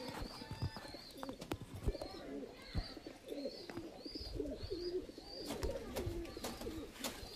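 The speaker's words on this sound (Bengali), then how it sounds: "এটা বেজি শেপের পায়রা দেখতে পাচ্ছ?" Kaldom pigeons with a mongoose-like shape coo in soft, rolling bursts close by, with short chirps and scattered clicks and handling noises between calls.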